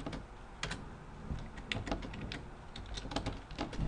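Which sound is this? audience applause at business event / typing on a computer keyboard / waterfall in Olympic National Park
typing on a computer keyboard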